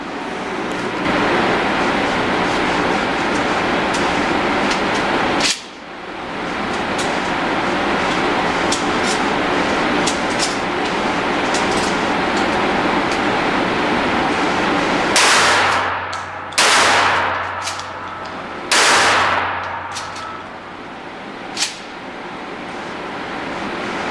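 Remington 870 pump shotgun fitted with a Knoxx recoil stock firing outdoors, loud sharp blasts with rolling echo, one shot early and then a quick string of three reports in the final stretch.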